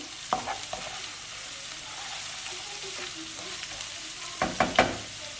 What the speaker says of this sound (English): what we're going to be adding is ginger and garlic. Chopped fresh chilies. I'm just going to stir that in.